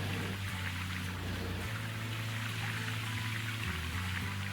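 Flowing water at a gold mining site in Gold Rush: The Game, a steady soft wash with a low machine hum beneath it, continuous and fairly faint.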